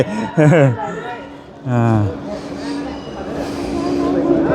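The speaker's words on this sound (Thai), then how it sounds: "รถไฟมาแล้วพี่น้องเอ้ย" A train arrives at a station in Thailand: a low rumble swells gradually beneath loud nearby voices of people waiting on the platform.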